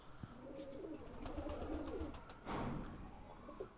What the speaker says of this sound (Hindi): बहुत ही शानदार कबूतर है